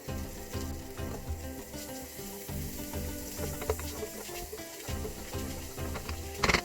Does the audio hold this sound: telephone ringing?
no